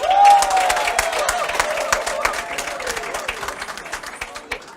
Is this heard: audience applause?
yes